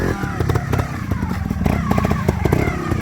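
A Montesa 315 trials motorcycle climbs a competition section, its engine blipping and revving in short, uneven bursts close by, with a steady mid-pitched motor note throughout.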